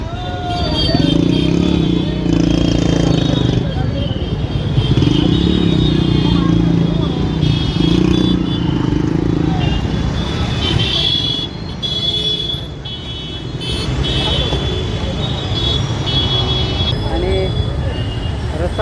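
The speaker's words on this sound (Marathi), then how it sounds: "हे फुटपाथवरून मोटरसायकल घेऊन जाऊ राहिले कारण की ट्रॅफिकच खूप झाली आहे" Motorcycles riding along a footpath through dense evening traffic in Pune, a steady close rumble of engines and revving that rises and falls, with people talking over the noise.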